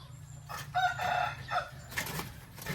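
Chickens in a layer farm building clucking and calling in short bursts, with a rooster-like crow among them, over a steady low hum in the background.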